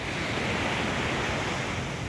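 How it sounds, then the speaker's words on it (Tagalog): Strong ocean waves break at a beach as a steady, loud roar of surf and wind noise, with no voices. "Malakas ang alon niya eh."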